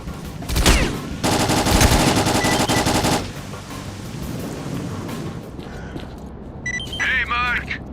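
Machine gun fire in the S.T.A.L.K.E.R. Clear Sky video game, starting with a short burst followed by a loud sustained two-second stream of rapid shots, then distant battle rumble and chatter fading into the background.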